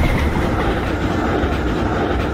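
Kalka Mail train in Indian Train Simulator rolls along at speed, a dense continuous rumble of wheels and carriages with faint rhythmic clatter, loud and close, no voices.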